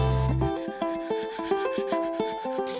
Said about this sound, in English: We'll strip it down, denail it and sand it down.